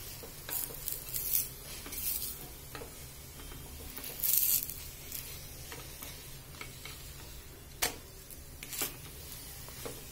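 A vegetable-stuffed paratha fries in oil on a hot tawa, giving a steady close sizzle with scattered crackling ticks and occasional louder spits and pops throughout.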